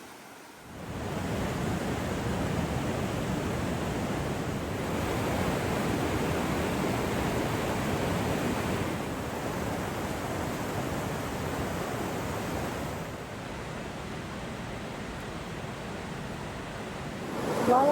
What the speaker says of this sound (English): Waterfall is beautiful